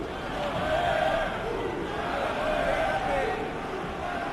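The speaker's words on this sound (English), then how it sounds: "You can hear the Brazilian fans cheering on Barao." Brazilian fans cheer on Barao at an MMA fight between Barao and McDonald, a steady, dense crowd roar from the arena swelling and easing slightly throughout, with shouted voices blended into the noise.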